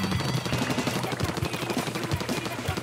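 Rapid splattering shots of ink from the Splattershot Jr. in Splatoon 2, a steady stream of repeated wet pops over busy game music and effects, fairly loud throughout.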